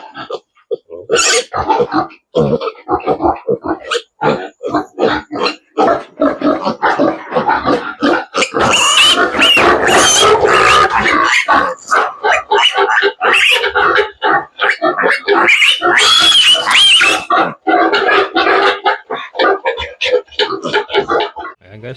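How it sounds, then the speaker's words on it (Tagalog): A pig on a farm grunts and squeals loudly and close by in a busy, continuous stream of snorts and shrill cries, with a voice speaking now and then underneath. "Hello, pig!"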